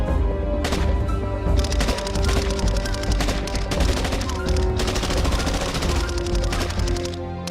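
Gunfire in an Amharic film scene: rapid bursts of shots and machine-gun fire crackling loud and close, packed densely over several seconds.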